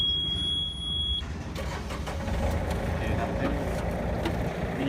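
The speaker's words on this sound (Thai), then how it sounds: "ติดเครื่องก่อนครับ" A Yanmar tractor engine cranks and catches after a brief high tone, then settles into a steady, loud, close diesel rumble that continues to the end.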